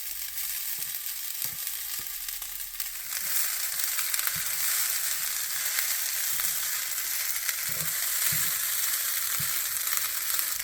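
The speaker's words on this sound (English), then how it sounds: "Once your veggies have been fried a little bit, let's add in the cooled rice." Vegetables frying in a pan as cooled rice is added for vegetarian fried rice; a quiet sizzle swells louder after a few seconds, broken by scattered scraping and stirring knocks.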